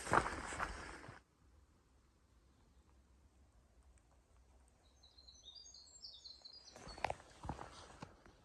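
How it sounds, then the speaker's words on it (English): Faint high bird chirps twitter in a brief cluster amid quiet outdoor ambience on the Appalachian Trail, with rustling footsteps nearby at the start and end. "Birds sound cool."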